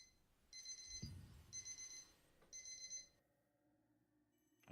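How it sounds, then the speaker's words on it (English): Three quick bursts of high electronic beeping from the Throne and Liberty video game, each a rapid trill about half a second long, faint and evenly spaced, then quiet. "I hear a beeping."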